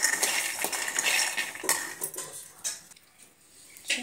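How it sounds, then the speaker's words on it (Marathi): Peanuts are dry-roasted over low heat and stirred in a pan, giving a continuous rattling, scraping clatter up close with no voices. "असे मंद गॅसवर आपले खरपूस भाजून घ्यायचे"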